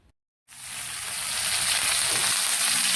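Onions hitting hot oil in a pan burst into a loud, steady sizzle after a brief silence, the frying hiss swelling and holding strong.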